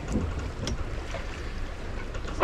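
Steady wind buffeting the microphone with rushing water and rough sea waves around a sailing boat running downwind with its engine off, a continuous rough, blustery roar with no talking.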